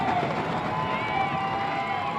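Alpenglow home crowd at a NW Colorado versus SW San Diego semifinal game, a continuous roaring crowd swell carrying under a commentator's voice.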